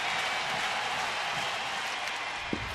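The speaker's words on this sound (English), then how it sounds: "Crowd getting into it now." Baseball crowd at Progressive Field in Cleveland, Mariners at Indians, rumbling and building with scattered clapping under a tense bases-loaded moment, a steady distant roar with one sharp knock near the end.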